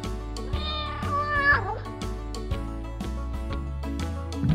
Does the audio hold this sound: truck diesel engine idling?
no